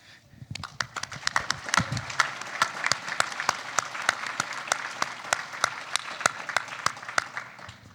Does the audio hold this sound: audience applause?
yes